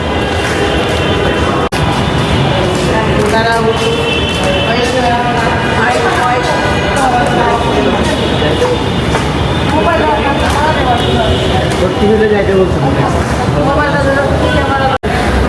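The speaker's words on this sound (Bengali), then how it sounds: "মেট্রোতে উঠেছি আমরা" A metro train ride in Dhaka, with a continuous loud rumble of the moving car under several people chatting and a voice nearby.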